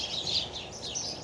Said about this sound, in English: The birds are tweeting pretty good.